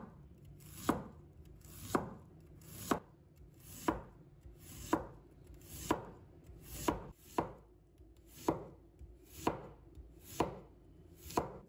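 A knife slices peeled white radish on a cutting board in crisp, evenly spaced chops, about one a second, close and clear with no talking.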